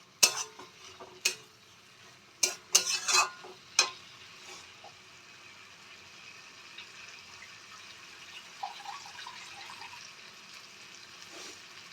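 An eggplant dish in a pan, with sharp stirring clatters at first, then a soft steady sizzle after a splash of water goes in, close and fairly quiet.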